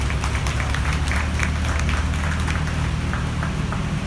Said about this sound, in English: Let's give all four of those exhibitors a round of applause.